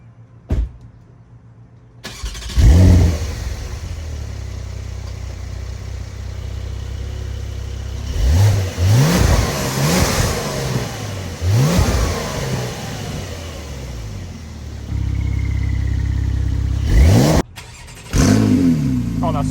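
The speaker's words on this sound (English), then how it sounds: "I'm just gonna turn on my car and then show you how that sounds" A Porsche 911 engine cranks and catches, then idles with several sharp revving bursts and a loud roar near the end, close and prominent.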